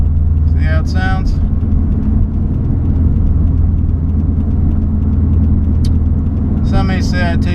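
A Subaru WRX STI with an aftermarket catback exhaust drones loudly and steadily from inside the car on a freeway on-ramp. A voice talks briefly at the start and again near the end over the engine.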